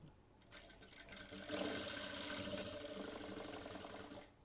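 A sewing machine stitches blouse fabric in a steady, fast mechanical whir that starts up, runs close and continuous for several seconds, then stops.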